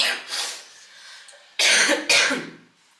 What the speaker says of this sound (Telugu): ఈ మధ్య కాఫ్ ప్రాబ్లం ఎక్కువగా ఉంది